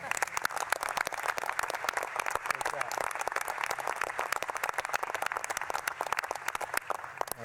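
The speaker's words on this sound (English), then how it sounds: "I think that's worth a round of applause." An audience at a US Space and Rocket Center speech in Huntsville breaks into dense, sustained applause, many hands clapping steadily throughout with faint voices underneath.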